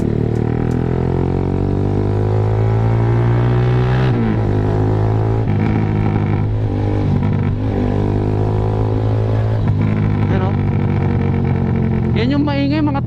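A Kawasaki Z200 with an Austin Racing GP1R slip-on exhaust runs loud and close, its engine droning and rising with throttle while someone talks over it.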